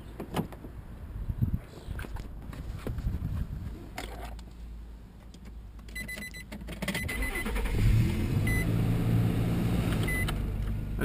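A 2008 Nissan Xterra S engine cranks and catches, then settles into a steady idle that grows louder and fuller toward the end, heard up close with no talking.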